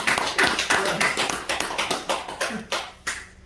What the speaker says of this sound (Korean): 아, 박수 좀 한번 쳐야지